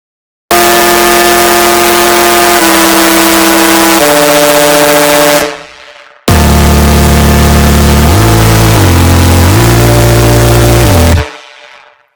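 Distorted, aggressive melodic neuro lead synth built in Serum, with high resonance and full drive, playing two loud sustained phrases of stepping notes separated by a short gap, no voices.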